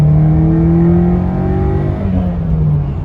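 1991 Nissan Sentra SE-R engine revving hard in second gear while accelerating, a loud close drone whose pitch climbs steadily over three seconds, then eases slightly near the end.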